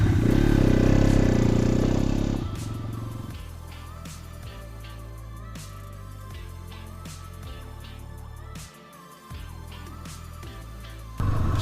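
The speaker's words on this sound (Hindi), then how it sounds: "स्टार्ट में जो आपका इसका एग्जॉस्ट साउंड आप सुन सकते हैं" Bajaj Pulsar NS 200 motorcycle starting, a loud engine burst settling into a steady idle exhaust note with rhythmic low pulses and a brief dip near the end, close by and without talk.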